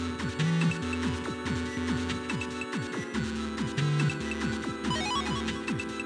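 A phone rings in the Game Boy Advance game Mega Man Battle Network 2, a repeating electronic ringtone with rapid chiming pulses over the game's background music, no talking.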